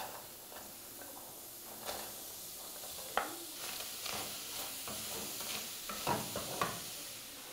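Chopped onion cooks in a pan as the start of a sauce for a wassa-wassa dish, a soft steady sizzle broken by occasional spoon stirs and clinks, close by and fairly quiet, with no voices.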